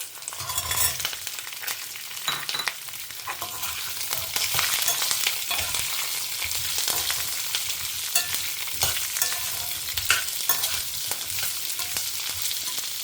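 Vegetables with curry leaves sauté in a pan for chutney, giving a close, steady sizzle broken by repeated scraping and clattering stirs of a spoon against the pan.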